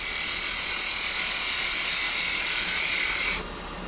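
A lathe spindle spins while turning a prototype chess pawn, a steady high whine that holds evenly and then drops off as it winds down, with no talking.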